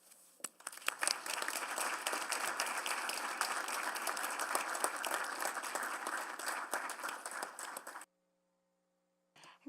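Committee volunteers receive applause in municipal council chambers: a full, steady burst of clapping from the gathered room lasting about seven seconds, then cutting off abruptly into near silence.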